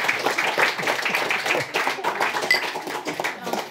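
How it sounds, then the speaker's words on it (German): A studio audience applauds a guest with uneven, crisp hand clapping, individual claps audible in a loose, irregular patter that continues throughout at moderate level. "Ein großer Applaus für Isabel Bock."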